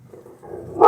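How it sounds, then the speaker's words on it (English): A pet dog lets out a short, close bark at the very end after a few soft whines or grumbles, all within under a second and with no talking over it. "That's my dog Pete."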